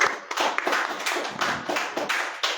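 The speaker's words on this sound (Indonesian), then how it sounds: "kita beri tepuk tangan untuk Bang Is kita." Clapping for a guest named Bang Is at a volleyball-themed talk event, a short burst of hand claps from a small group, fairly close and uneven, with no talk over it.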